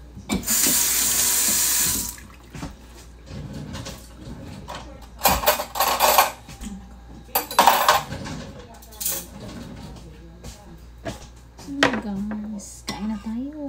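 A kitchen tap runs with a loud rushing stream for about two seconds, then dishes, pots and cutlery clatter in the sink in repeated bursts, with a voice speaking briefly.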